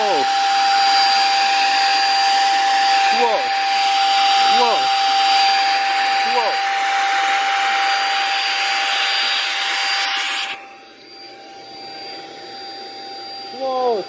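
A vacuum draws air out of a vacuum seal bag packed with a huge fluffy blanket: a loud, steady roaring hiss with a thin whine runs for about ten seconds, then drops away sharply and returns briefly at the end.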